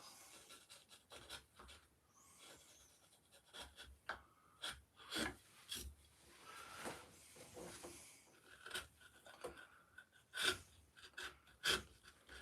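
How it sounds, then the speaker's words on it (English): A very sharp chisel cutting into wood during hand carving, with a series of short scraping, rasping strokes and small taps, close and fairly quiet, broken by brief pauses and soft breathing, with no talk. "Very sharp chisel anyway."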